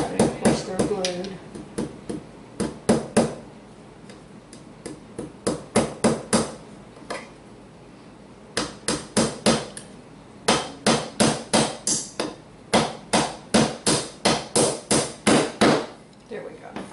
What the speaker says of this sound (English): just put one wire brad through that side